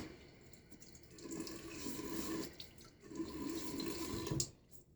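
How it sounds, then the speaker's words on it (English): Water runs from a tap in soft bursts, splashing gently into a sink, quiet and close, with brief pauses between flows. "Nice quiet faucet here."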